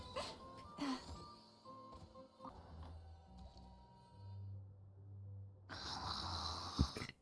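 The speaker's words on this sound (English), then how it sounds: "Loud ass snoring." Loud snoring in a Genshin Impact game scene, a few slow rumbling breaths with rising and falling snorts, close and alone with no talk.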